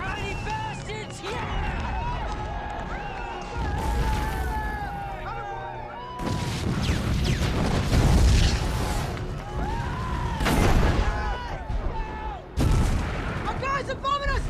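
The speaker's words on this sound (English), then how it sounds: "Our guys are bombing us!" Bombing explosions and gunfire in an action war film, loud booms and bursts rolling continuously with chaotic battle noise and shouting voices mixed in throughout.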